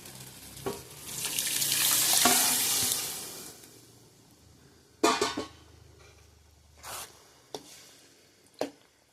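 Dissolved blood is poured into a pan of sautéing onions, setting off a loud rising sizzle that fades, followed by scattered sharp stirring scrapes and knocks against the pan.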